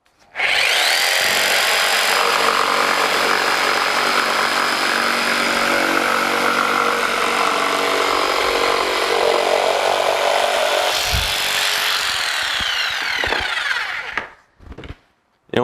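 A Festool PS300 jigsaw cutting through wood, running loud and steady with a buzzing, high-pitched whine for about thirteen seconds before the blade stops and the motor winds down.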